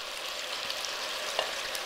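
Chopped onion frying in a hot pan for a Chinese-style pork dish gives off a steady, even sizzle and crackle that stays close and level throughout, with no voices over it.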